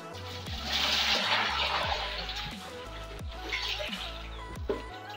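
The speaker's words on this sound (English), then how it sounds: "So what I'm gonna do is pour this water." Rinse water poured out of a bowl after washing lemons, splashing and gurgling in uneven pulses, moderately loud and close, with no speech.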